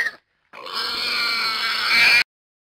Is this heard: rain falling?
no